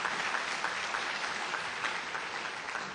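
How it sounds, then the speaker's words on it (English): Audience applause at an awards luncheon, dense continuous clapping from a crowd filling the room at moderate level, with no speech over it. "Let's give her another round of applause."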